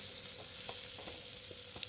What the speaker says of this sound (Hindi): सब्ज़ी में हमारा तड़का लग चुका है।